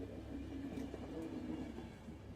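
A train rumbles along steadily in the zombie video game The Final Station, a continuous low mechanical drone with a faint rhythmic rattle, close and even throughout with no talking.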